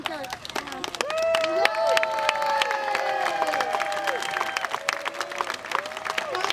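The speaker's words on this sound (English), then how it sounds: "she needs to keep that applause going before she shows off that highlight" Audience applause and cheering at a sea lion show in an aquarium, sustained clapping from a crowd throughout, with a whistle-like tonal layer and a voice talking over it.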